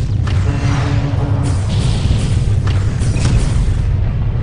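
Weapons fire in a Freespace 2 space combat game: a loud, continuous barrage of deep booming blasts with sharper bursts on top, steady and dense throughout with no pauses.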